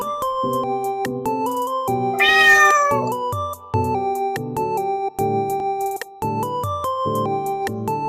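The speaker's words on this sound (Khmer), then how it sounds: "គឺសត្វឆ្មា" A cat's meow rises once, clear and close, over a steady, repetitive electronic tune that plays throughout.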